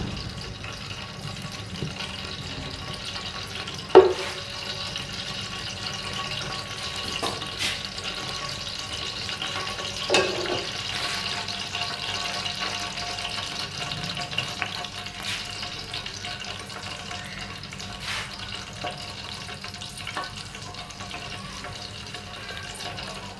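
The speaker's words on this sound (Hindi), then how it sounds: "उसके बाद हमने ये जो पानी है गुड़ वाला वो इसके अंदर हमारी जो चाशनी है इसके अंदर हमने ऐड कर देनी है।" Jaggery syrup water is poured into rice frying in a pot, and a quiet, steady sizzle and bubbling continues throughout, broken by a few faint clinks of a spoon or the pot. No one speaks.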